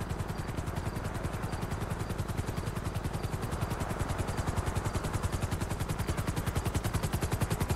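A helicopter in the Fortnite video game thumps with steady, rapid rotor beats at close range, loud and continuous throughout, with no talking over it.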